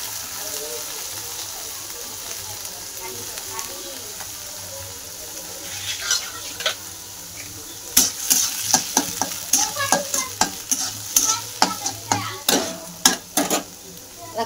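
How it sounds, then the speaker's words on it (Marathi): Onion sautéing with curry leaves in a pan for a home-style vegetable dish: a steady soft sizzle, then repeated clinking and scraping as the spoon stirs the pan. "कांदा लाल होतोवर आपण परतून घेऊ चांगला."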